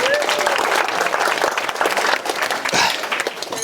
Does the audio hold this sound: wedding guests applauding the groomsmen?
yes